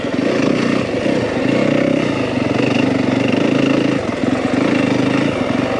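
A Yamaha WR 250F four-stroke dirt bike engine runs on Flagstaff single track, loud and close, holding a steady mid-pitched drone with small rises and dips in throttle and no speech over it.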